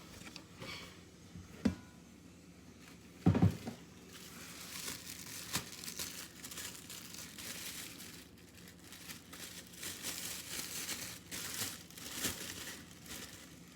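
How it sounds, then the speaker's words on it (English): Plastic bag crinkling and rustling through the whole stretch, with a couple of sharper crackling bursts early on, fairly close and moderately quiet. "a bag, a plastic bag."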